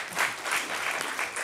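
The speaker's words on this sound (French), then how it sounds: "on peut l'applaudir" A brief burst of audience clapping after a talk on popular education and cultural democracy, a quiet, steady patter of many hands heard alone.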